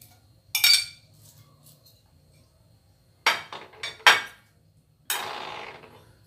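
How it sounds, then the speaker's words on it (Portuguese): Coarsely sliced cabbage tossed in a bowl for a mixed cabbage salad with yogurt dressing, heard as a few separate clinking, rustling bursts with quiet pauses between them. "Tá misturando aqui o nosso repolho grosso."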